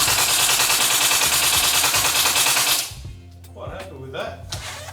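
An E&C Colt M4A1 carbine gel blaster shooting older AK gels in a dense full-auto burst of rapid rattling shots for almost three seconds, then stopping, followed by a few faint clicks and handling sounds.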